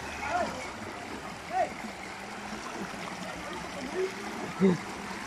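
Water flows steadily in a stream, a soft continuous rush with occasional faint splashes and distant voices.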